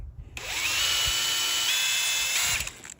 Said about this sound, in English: so we're drilling a little bit more